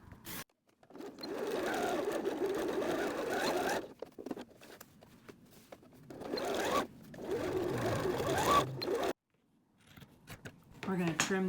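A home sewing machine stitches across the box corners of a library bag lining, running in several steady bursts separated by short pauses and clicks.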